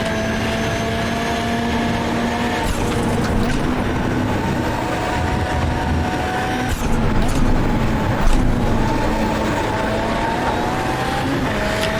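VW Beetle race car at Oulton Park in the iRacing simulator, its engine droning and shifting pitch steadily as it slides through a right-hand corner, loud and continuous, with faint commentary underneath.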